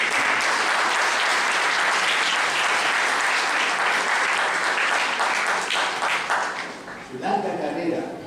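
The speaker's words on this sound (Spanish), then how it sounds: "recibamos un fuerte aplauso por tenerlo acá" Sustained audience applause at a legal-political lecture event, a dense wash of clapping that fades near the end as a voice begins speaking.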